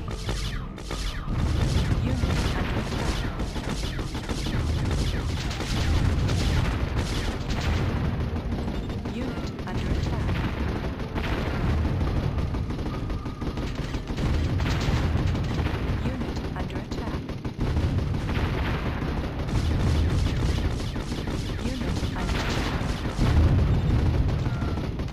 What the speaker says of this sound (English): Wow, they can mortar from so far away.